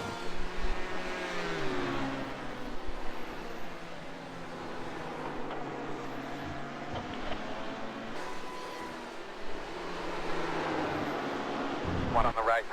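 Ford GT race car engines in a Spa GTE racing game, a steady roar with shifting engine tones as prototype cars pass, with radio talk over it throughout.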